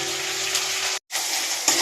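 Chopped tomatoes tipped into a pan of frying onions give a loud, steady hiss and sizzle, broken by a brief silent gap before the frying noise resumes at full strength.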